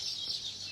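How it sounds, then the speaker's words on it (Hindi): Birds chirping in a quick high-pitched flutter, steady and fairly close, with no talking over it. "बहुत ज़्यादा चहचहाने की आवाज़ आ रही है"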